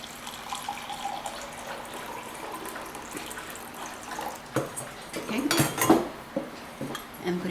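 Water is poured into a saucepan in a home kitchen while pickling brine is being prepared, with a soft stream, metallic clinks of the pan and utensils, and a few brief louder splashes and knocks near the end.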